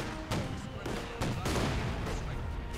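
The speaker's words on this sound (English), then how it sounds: "It's mighty 30cm flak cannon." A 30cm flak cannon fires in the Company of Heroes 2 strategy game, several sharp booming blasts spaced irregularly across a few seconds amid battle noise, with commentary running underneath.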